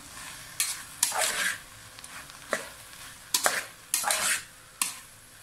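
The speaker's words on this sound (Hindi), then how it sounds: "ये अचार का मसाला जो हमने पीसा था वो भी हम इसमें ऐड कर देंगे। अब हम इसको फ्राई करेंगे।" Okra frying in a pan with ground pickle masala, heard as a few separate bursts of scraping and clattering stirring over a faint sizzle, close and moderately loud.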